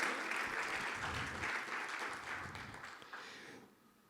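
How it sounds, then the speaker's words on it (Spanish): A church congregation applauds steadily for about three and a half seconds, a dense, full wash of clapping that holds fairly even before fading out at the end. "Denle un aplauso al Señor por eso, porque eso solo nos lo da Él."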